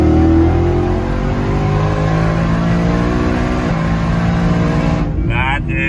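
A supercharged Ford F150 pulling hard at full throttle from inside the cab, its engine a loud, steady roar climbing in pitch before a brief break near the end as it shifts.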